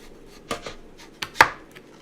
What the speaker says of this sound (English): So I'm just going to cut it into manageable pieces. And then I'm going to cut off the outside.